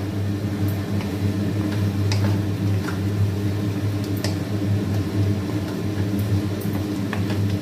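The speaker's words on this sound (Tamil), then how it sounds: "அதுக்காக இப்போ இதை மிக்சியில் போட்டு அரைச்சிக்கிறேன்" A mixer grinder blends fennel seeds and shallots for a country chicken curry paste, its motor giving a loud, steady, unbroken whir from start to finish with no talking.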